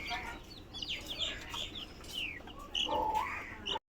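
Native desi chicken chicks on a small farm cluck and peep in quick, high bursts close by, with a louder flurry near the end.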